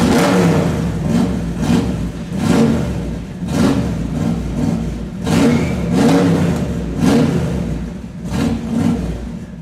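A Jaguar XKR movie car fitted with a Ford 302 V8 revs repeatedly, the engine swelling and easing in a steady rhythm of throttle blips, loud and close with no talk.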